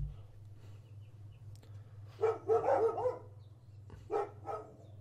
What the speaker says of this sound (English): I do apologise for the dogs. They are playing rambunctiously outside.